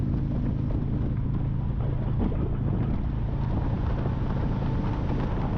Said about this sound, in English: It's blowing a north wind pretty good today.